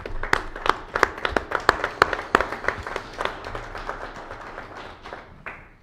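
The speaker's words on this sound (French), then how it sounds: "Je pense que ça mérite une bonne main d'applaudissements" Applause at a December municipal council meeting, with sharp, fairly sparse claps from a small group. It starts crisp and then thins out over a few seconds, with no talking over it.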